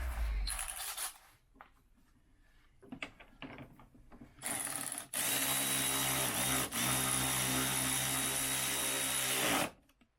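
Power tool spinning a nut down on Ford Focus Mk3 front suspension during spring replacement: a few short clicks and bursts, then a sustained loud whirring run of several seconds, briefly dipping once, close up.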